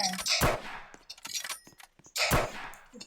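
Sniper rifle shots in the Roblox game ring out in sharp, loud bursts, two or three close reports with ringing tails separated by short gaps, mixed with other game effects.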